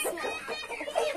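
Chickens cluck in a rapid, close, continuous chatter with a brief higher call, heard on a small poultry setup.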